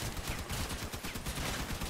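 Rapid gunfire in the vehicle combat game Crossout, a dense run of close, punchy shots with a steady rhythm over a full, continuous rumble throughout.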